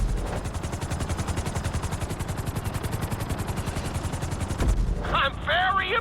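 A helicopter in the GTA 5 video game drones with steady rapid rotor chopping as it sets down on a landing pad, loud and continuous, before higher game sounds take over near the end.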